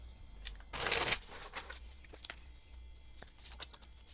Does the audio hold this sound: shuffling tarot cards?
yes